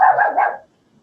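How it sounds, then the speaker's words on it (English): A pet dog gives a quick pair of close, loud barks in a single burst lasting about half a second, then quiet. "It sounds like your dog speaks Spanish too."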